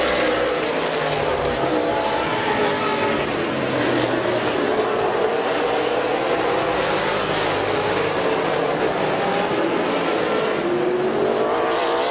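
Race cars at Midvale Speedway during a 2017 feature race, engines roaring loudly and continuously as the pack sweeps past, with rising and falling pitch and tire noise across the full span.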